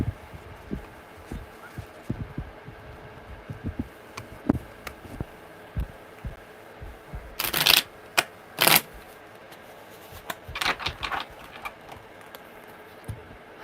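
A deck of tarot cards being shuffled by hand, soft riffling and tapping at close range with a couple of louder bursts of cards being bridged together, quiet and intimate.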